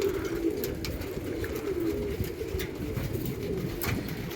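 Pigeons kept on a rooftop in winter, coos and calls with occasional wingbeats, a steady low murmur of birds close by with faint scattered bird notes above, no voices.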